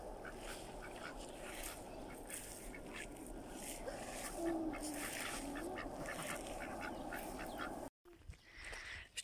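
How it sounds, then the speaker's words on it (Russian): Ducks quack and honk by a rural ditch, a continuous chorus of close calls over outdoor ambience that briefly drops out near the end. "Наши уточки пришли на канавку."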